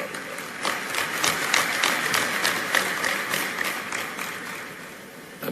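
Applause from a large audience at a gathering in the Metro Toronto Convention Centre, Canada, a dense, steady patter of many hands clapping that holds for several seconds before easing slightly toward the end.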